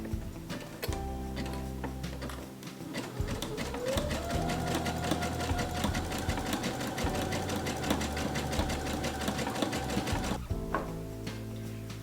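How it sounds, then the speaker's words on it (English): A sewing machine runs a continuous zigzag stitch along the center back seam of cozy pajama pants, a steady rapid mechanical chatter close up that winds to a stop near the end. "At center back, zigzag. And slightly pull while you zigzag."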